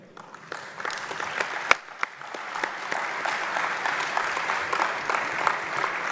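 Audience applause at a pulse-trade conference hall: scattered claps start up and swell into broad, steady clapping from a large room, moderately loud and continuing evenly without voices.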